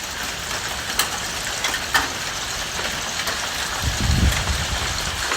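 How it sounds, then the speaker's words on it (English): Steady rain during a western Kansas thunderstorm, a constant broadband hiss of falling drops with a few sharper spatters and a low rumble building near the end as the shower grows heavier. "Here comes a heavier rain."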